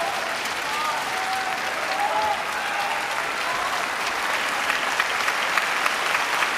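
Table tennis match crowd applauding steadily as a continuous wash of clapping from a large arena audience, with faint voices mixed underneath.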